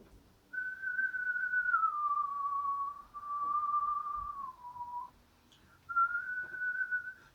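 A single person whistles a slow, plaintive chant-like melody, clear and fairly soft, in three sustained phrases separated by short pauses, with no other sound or talk.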